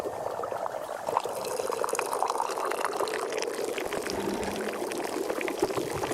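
Tea pouring into a cup in the video game Wanderstop, a continuous close liquid stream that gurgles and splashes steadily for several seconds.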